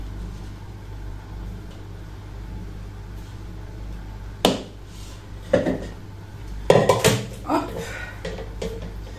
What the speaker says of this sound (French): ne faites pas attention au bruit, il y a le lave-vaisselle juste en dessous